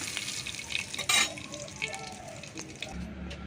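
Shol fish sizzles in hot oil in a village-style kitchen, a crackling fry broken by clattering as the pieces are lifted out, with a brief louder burst early on.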